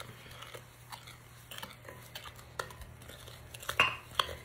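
Pineapple casserole mixture is stirred with pineapple juice in a bowl, giving faint, irregular spoon clinks and soft scraping against the bowl in a quiet kitchen, with a few louder taps near the end.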